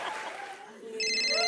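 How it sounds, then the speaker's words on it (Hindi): A telephone rings briefly in an Indian TV comedy sketch, a bright electronic ringtone rising over a faint background murmur, close and moderately loud. "ओहो, अब मेरा फोन आ गया।"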